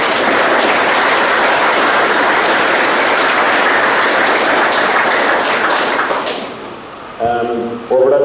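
Sustained, loud applause from an audience at the official opening of new GAA club facilities in Kilcummin, a dense wash of clapping lasting about six seconds before fading, then a voice begins speaking.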